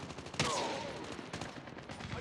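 Gunfire in a Call of Duty team deathmatch, with one sharp nearby shot followed by a falling whine and a scatter of lighter distant shots under faint background game noise.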